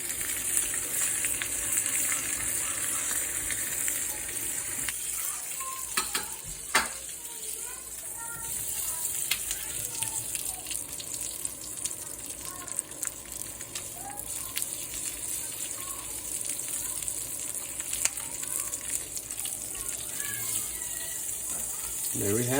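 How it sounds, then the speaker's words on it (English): The fatty edges of a sous vide tomahawk steak sear in a hot pan, giving a continuous hiss and crackle with occasional clicks and scrapes, and a voice talking now and then over the sizzle. "To the other side, I'm going to sear the edges with the fat on it."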